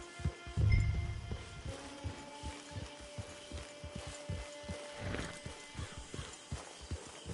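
Horse hooves clip-clop at a steady walking pace in the Red Dead Online video game, with a louder thump near the start and a low musical drone running underneath.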